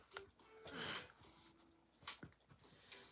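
An itchy dog snorts and breathes in short, sharp bursts close by, with brief scratchy noises between them, all fairly quiet.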